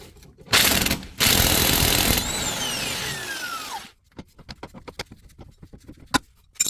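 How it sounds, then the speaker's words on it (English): An electric impact gun removing bolts and nuts from the rear shock mounting in the boot of a Mercedes W164 ML-Class: two loud, close bursts of rapid hammering, a whirring run that winds down, then scattered clicks and clanks of handling. "I'm going to use electric impact gun first of all to remove these"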